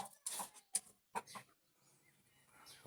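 A young rooster just learning to crow gives a few short, scratchy, broken calls nearby, separated by brief pauses and fading into quieter background farm noise.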